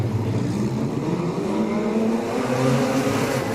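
Wingless sprint cars roar off the start of a heat race at Laang Speedway, a dense pack of engines revving and rising in pitch, loud and continuous.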